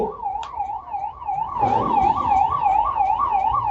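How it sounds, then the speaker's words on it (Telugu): An ambulance siren wails through the Jagannath Rath Yatra crowd in Rajahmundry. It is loud and near, with a steady rising and falling pitch cycling about twice a second, over a murmur of festival noise. "అంబులెన్స్ దారి ఇవ్వండి, అమ్మ అంబులెన్స్ దారి ఇచ్చేయండి అమ్మ"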